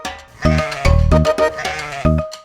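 A voice imitates a goat in a Hindi comedy serial about Aladdin, giving several loud, close, quavering bleats in quick succession.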